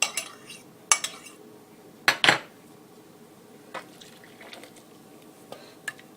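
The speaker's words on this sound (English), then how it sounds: "Now I'm going to have to start stirring a little more carefully because it'll slop out." A spoon stirring yeast mixture into dinner roll dough in a bowl, a few sharp clinks against the bowl between softer scraping and sloshing, otherwise quiet.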